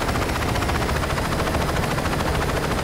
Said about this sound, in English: this isn't even an attack jump helicopter